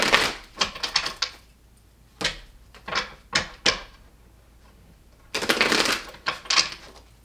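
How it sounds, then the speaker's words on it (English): Tarot cards being shuffled and handled up close in a quiet room, coming as several bursts of riffling and slapping with short pauses between them. "let's pull some more tarot to clarify."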